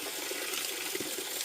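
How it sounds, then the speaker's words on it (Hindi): Water pouring from a household tap, a steady close rushing hiss with no breaks. "अच्छा पानी तो बड़ा सा आ रहा है"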